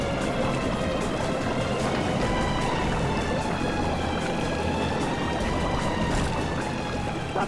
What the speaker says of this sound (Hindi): पानी भर रहा सर